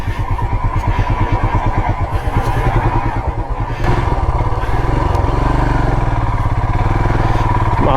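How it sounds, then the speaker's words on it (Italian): A KTM motorcycle engine revs and labors steadily climbing a mountain track to Colle del Sommeiller, Piedmont, loud and close, with a rough rumbling growl that grows heavier partway through. "iniziano a venire su anche moto, un bel KTM"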